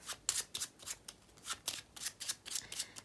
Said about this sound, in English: Just shuffle up this small packet, just like this.